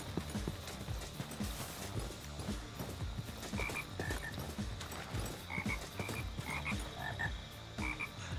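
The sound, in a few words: frogs croaking in Minecraft video game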